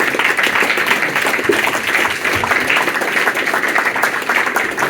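Dense, steady round of applause from an audience at a retro video game talk, many hands clapping together without a break and without voices.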